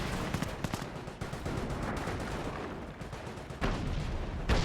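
Battlefield gunfire from the WWII strategy game Company of Heroes, with a Hetzer tank destroyer and Hotchkiss tanks in the fight: dense, continuous crackling shots and bursts that roll on steadily, with a couple of heavier blasts near the end.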